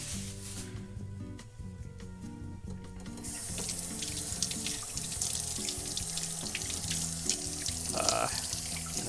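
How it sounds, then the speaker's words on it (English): A cucumber is washed under a running kitchen tap, with a steady rush of water into the sink and rubbing and splashing that grow brighter partway through. "I need to wash the cucumber before we do that because we're leaving the skin on it"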